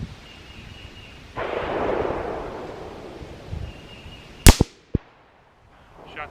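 A 17 HMR rifle is fired at a target outdoors, giving one sharp, loud crack followed closely by a quieter pop against a soft, breezy background.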